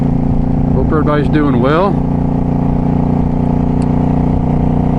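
A motorcycle engine hums steadily on a Saturday afternoon ride, a constant loud drone under a man's brief spoken greeting.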